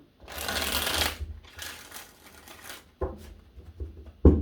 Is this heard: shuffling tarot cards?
yes